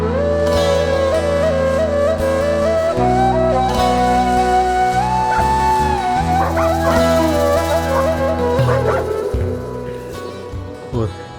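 Several dogs howl and whimper together in bitter cold on the Yamal tundra, a sustained, wavering chorus of overlapping cries that stays loud throughout before easing slightly near the end.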